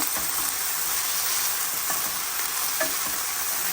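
Chicken marinated in ginger-garlic paste, soy sauce and black pepper sizzles loudly and continuously in a hot pan, with a few soft stirring scrapes and clicks breaking through the steady frying hiss.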